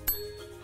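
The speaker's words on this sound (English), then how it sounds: "Let's tap the magic bell and go see our animal friends." A single bright chime from a tapped magic bell rings out once near the start, then fades into a soft shimmering tail.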